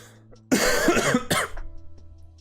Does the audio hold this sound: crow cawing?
no